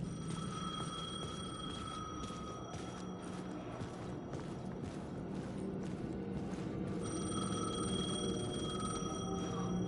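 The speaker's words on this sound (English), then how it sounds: "The payphone was ringing." A payphone rings in Alan Wake 2, its bell trilling in repeated steady bursts over an ambient game backdrop with low rumbling and mechanical textures, fairly loud and continuous throughout.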